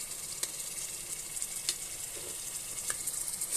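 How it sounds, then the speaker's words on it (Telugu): Onions frying in a pan with ginger-garlic paste and masala for a chicken curry, a soft steady sizzle with faint stirring scrapes throughout. "వేసుకొని పచ్చి వాసన పోయే వరకు వేయించుకోవాలి"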